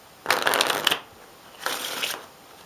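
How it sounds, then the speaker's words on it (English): A deck of playing cards being shuffled up close, two distinct riffle bursts of fluttering, crisp card slaps separated by a short pause, heard alone without talk. "So now that the deck is shuffled"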